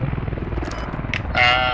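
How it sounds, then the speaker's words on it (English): A helicopter flying nearby in the Battlefield video game, with a steady, pulsing rotor chop loud and close throughout, mixed with other game sounds and people talking over it. "Is this chopper?"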